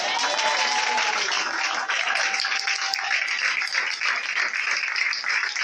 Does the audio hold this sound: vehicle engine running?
no